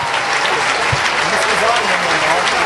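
Sustained clapping from a big crowd gathered at Berlin's Brandenburg Gate for a speech, a thick continuous patter holding at a fairly even level.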